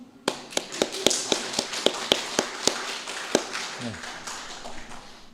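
A church congregation standing to applaud a newly married couple at a Sunday morning service, heard as a series of sharp, evenly spaced claps and taps echoing in the hall, loud and close, with a brief voice near the end.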